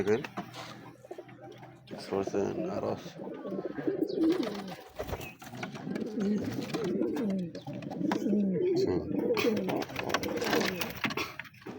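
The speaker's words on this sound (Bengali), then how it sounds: "এই যে এটা কবুতর এখানে এই যে সিরাজি কবুতর এখানে একটা কবুতর" Sirazi pigeons coo steadily and close up through the whole stretch, a continuous warbling murmur of several birds with a voice talking alongside them.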